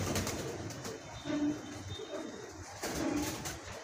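Domestic pigeons in a breeder's flock coo softly twice, a low coo at a time against a quiet background murmur.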